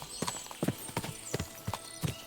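Horse hooves clip-clop in Kingdom Come Deliverance 2, a sparse, uneven run of sharp hoof strikes on hard ground, fairly close, with no voices over them.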